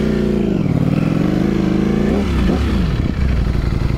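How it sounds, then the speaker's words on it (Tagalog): A Ducati Streetfighter V4 S fitted with a full Akrapovic exhaust system revs loudly close by, its engine note rising and falling through several throttle blips over a steady idle rumble. "Bigyan ko kayo ng ano, ng sound check ng full exhaust na Acra Balvic full exhaust system"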